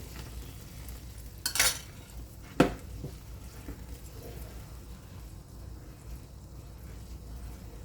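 A spoon stirs edible gum in boiling milk in a pan for a traditional Indian sweet, with soft scraping and bubbling throughout and two sharper clinks of utensil against the pan early on.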